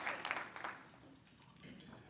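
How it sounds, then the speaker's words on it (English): Applause from guests at a Hispanic Heritage Month breakfast, a few distinct claps up front that fade into a softer, thinning patter, fairly faint and brief. "Give them a round of applause"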